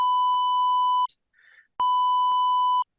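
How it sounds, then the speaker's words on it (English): Two long steady censor bleeps, a loud pure tone each lasting about a second, separated by a short gap with faint muffled sound, cutting out speech. "I'm going to beep this out for fun"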